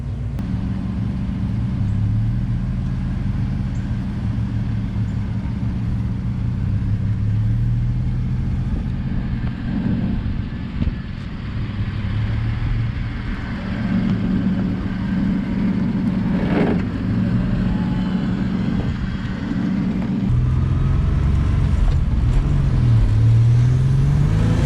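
A built, turbocharged car engine on a dyno: a long, loud rumble with repeated revs rising and falling, then a strong rev surge near the end.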